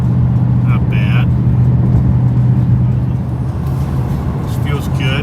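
A 2020 Mustang Bullitt V8 cruises in sixth gear at about 1,800 RPM, giving a steady low engine drone with tire and road noise. Someone talks over it the whole time.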